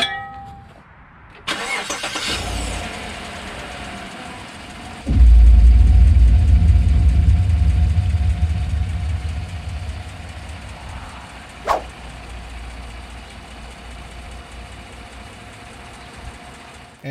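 A GM 5.3-liter V8 L83 truck engine cranks briefly, catches with a loud, deep roar, then settles into a steady, close idle that slowly quiets, with one sharp click partway through.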